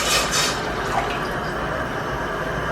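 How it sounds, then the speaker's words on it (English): Water is poured into a cooking pot set on the fire for brown rice, a close, steady splashing gush that starts strongest and settles into an even running stream. "So I'm just going to pour my water"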